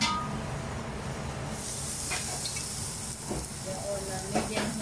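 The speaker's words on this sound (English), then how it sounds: "Now we grill the beef." Beef grilling over medium heat, a steady sizzle and hiss running throughout with occasional faint clinks of utensils, close by and fairly quiet.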